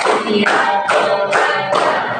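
A group claps in unison to a counted ice-breaking routine, four or five loud bursts of sharp hand claps in a steady rhythm, close and filling the space.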